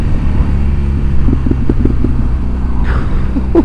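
A 2007 BMW 1200GS motorcycle engine hums at a steady cruising pitch, a loud, close, low rumble with constant wind buffeting and no talk over it.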